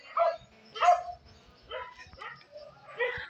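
A dog gives several spaced barks, moderately close and somewhat faint, with quiet gaps between them and no talk.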